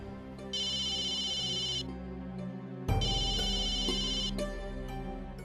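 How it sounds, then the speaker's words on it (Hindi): A telephone rings in two electronic bursts, with a pause between them, against a steady background hum. No voices are heard. "एक तरीका है, मैं तरुण को फोन करता हूँ"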